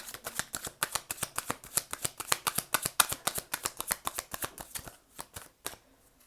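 Tarot cards being shuffled and drawn by hand, a fast steady riffle of crisp snaps close up for several seconds, then a brief pause and a couple of final flicks.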